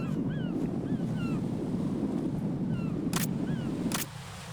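Steady wind rushes through an in-game outdoor area in Metal Gear Solid 2, a constant broadband roar with faint bird-like chirps, a couple of brief bright bursts near the end before the wind drops quieter.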